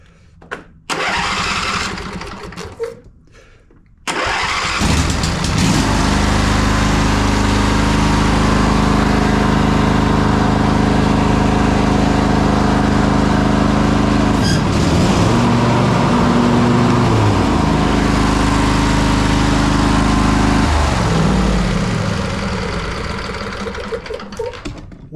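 A Husqvarna YTH2148 riding mower cranks over briefly, catches and starts, then runs at a loud, steady idle near the listener, with the engine note shifting midway before easing down toward the end.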